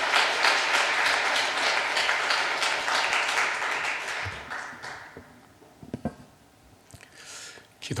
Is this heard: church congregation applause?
yes